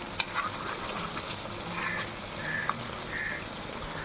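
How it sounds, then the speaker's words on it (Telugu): Stuffed brinjal pieces sizzle steadily in a generous amount of hot oil, a constant close frying crackle with a few brief pops and light stirring noises over it. "నూనెలోనే వేగాలి వంకాయ అంతా."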